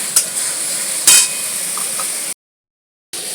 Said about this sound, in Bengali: মশলাটাকে অল্প অল্প জল দিয়ে ভালো করে আমি এটাকে কষিয়ে দেবো যতক্ষণ না মশলা দিয়ে কাঁচা গন্ধটা বেরিয়ে যায়